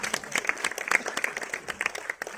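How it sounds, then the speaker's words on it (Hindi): Brief burst of audience clapping for a Dastangoi storyteller at a book release function, with dense, irregular claps close by. "तो एक बार जोरदार तालियां"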